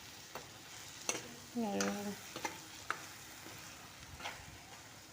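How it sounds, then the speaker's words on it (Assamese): Tomato paste being stirred into cooked taro leaves in a pan, giving soft scraping strokes and a faint sizzle, fairly quiet and close, with a single spoken word. "বিলাহীখিনি লৰাই দিলে অলপ সিজিব দিছোঁ"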